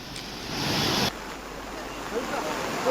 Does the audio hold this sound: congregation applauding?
no